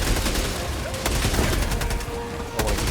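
Sentry turret firing in Helldivers, a steady stream of loud, closely spaced shots running through the whole stretch with explosive booms mixed in and faint voices underneath.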